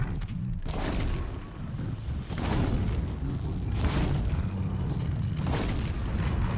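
Explosions in the video game Horizon Zero Dawn: four deep booms burst out one after another, each swelling into a rumbling roar over a continuous low game background.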